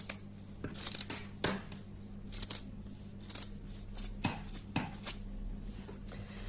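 Fabric from a sweater being cut with scissors, a string of close, crisp snips spaced irregularly over several seconds in a quiet room, with no talking.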